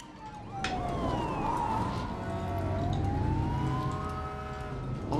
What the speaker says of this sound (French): Subtilement, il y a les policiers, il y a les pompiers